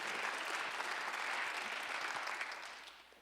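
A church congregation at a Thanksgiving Sunday service applauds in a steady wash of many hands clapping. The applause is dense and even, then tapers off toward the end.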